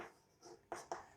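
Quiet strokes of writing on a board during a classroom science lesson, with a soft scratching stroke followed by two sharper, distinct marks close together near the end.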